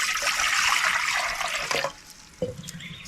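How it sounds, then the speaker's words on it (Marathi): Lentils (dal) being washed in water for puran poli, giving a steady, close sloshing and splashing that runs loud for nearly two seconds, then drops to a few softer trickles and small splashes, with no talking. "एक तांब्या पाणी चांगलं कडकडायला ठेवते आणि हे डाळ धुवून घेते"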